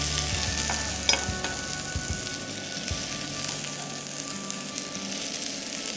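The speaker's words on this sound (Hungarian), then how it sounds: "Rátesszük a gombócot, a hagymára most már." Bread dumplings frying on onions in a pan, a continuous crackling sizzle with occasional sharp pops and a few stirring knocks, moderately loud and close, with no voices.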